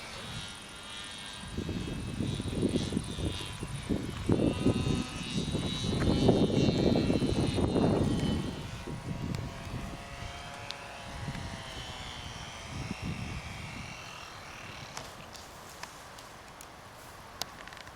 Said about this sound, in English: I hope you enjoyed me flying planes again.